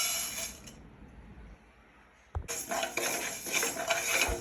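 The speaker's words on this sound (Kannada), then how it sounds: "ನಾನು ಮೆಂತ್ಯ ಹಾಕಿ ಹುರಿತಾ ಇದ್ದೀನಿ." Fenugreek seeds roast in a pan, starting with faint rattling, then after a short lull a sharp clank and a bright, continuous clatter and scraping of metal utensils.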